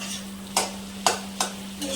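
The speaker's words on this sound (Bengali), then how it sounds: "এদিকে ভাজা চলছে, এদিকে ভাত হচ্ছে, উচ্ছে আলু ভাজা।" Bitter gourd and potato slices frying in a pan give a steady sizzle, broken by four sharp scrapes of a spatula stirring them, close and clear with a constant low hum underneath.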